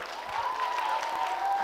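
A quiz audience at Jaipur's JKK keeps up sustained applause, dense overlapping clapping from a crowd at a fairly even level throughout.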